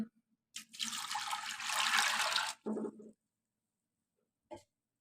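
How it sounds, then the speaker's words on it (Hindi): Water pours in a steady rushing stream into a cooking pot of soaked lentils for about two seconds, then a short splashing burst follows, with a brief faint clatter near the end. "तो अब हम इसमें पानी ऐड करेंगे।"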